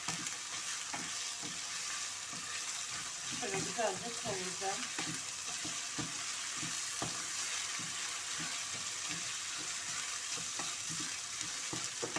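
Steady sizzling of rice toasting in a hot pot with a spoon stirring and scraping now and then, close and continuous throughout.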